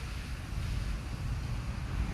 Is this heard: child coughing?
no